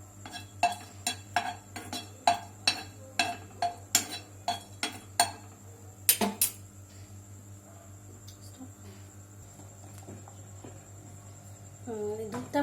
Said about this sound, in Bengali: আর এদিকে আমি এলাচটা শুকনো প্যানের মধ্যে মেরে নিচ্ছি।